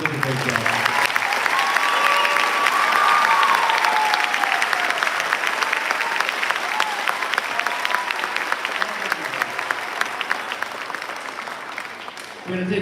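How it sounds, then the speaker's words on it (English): A school spring concert audience gives a full round of applause after a piece, loud and continuous for about twelve seconds before thinning slightly, with a faint voice heard under it near the start. "just one more round of applause"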